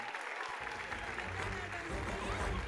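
Audience applause at a Turkish school awards ceremony as a journalist is called to the stage, a sustained dense clapping with a low rumble of movement and music underneath.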